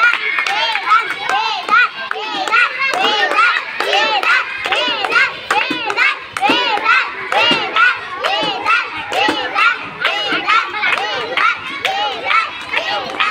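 A group of children in a classroom claps and shouts together in a loud, continuous burst of close clapping, cheering and chatter that keeps going throughout.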